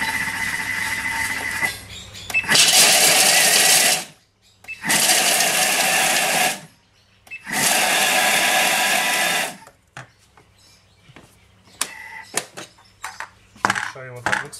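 Food processor pulsed on turbo to blend a nut, ginger and date cheesecake base, three loud whirring bursts of about two seconds each separated by short pauses, followed by clatter and light handling sounds.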